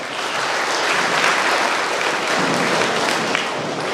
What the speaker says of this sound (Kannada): ಹಾಗಾಗಿ ನಿಮ್ಮೆಲ್ಲರಿಗೂ ಒಂದ್ಸಾರಿ ಜೋರಾಗಿ ಚಪ್ಪಾಳೆ.